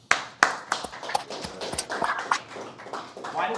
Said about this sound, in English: Why did you clap for him and not me?